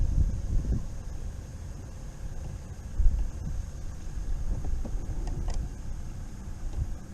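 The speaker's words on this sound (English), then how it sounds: "That wind's kicking up, y'all" Wind buffets a microphone outdoors on open water during crappie fishing from a boat, a steady low rumble with gusts that swell and ease, one stronger buffet midway.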